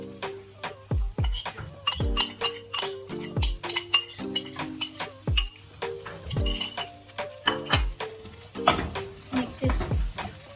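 Spoon scraping and clinking repeatedly against a bowl while samosa filling is mixed, a steady run of close, sharp clinks over soft stirring, with no talk.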